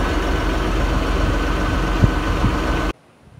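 A John Deere 5075E tractor engine idling with its PTO switched off, a steady close low diesel rumble that holds evenly, then cuts off abruptly near the end.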